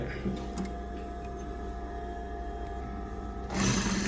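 A sewing machine stitches a sleeve on a basic bodice with a steady mechanical whir and faint ticking, then grows louder for the final half second.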